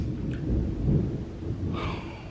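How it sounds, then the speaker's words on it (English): Low rolling thunder rumbles for about two seconds, loud and deep, swelling in the middle and fading, with a faint breath or airy noise near the end. "Whoa, did you hear that thunder?"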